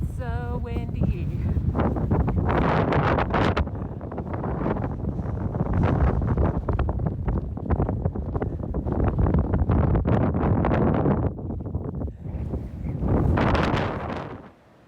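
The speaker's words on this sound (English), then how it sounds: "It's so windy." Strong wind on a mountain ridge along the Continental Divide Trail buffets the microphone in a continuous loud roar, gusting and easing briefly near the end.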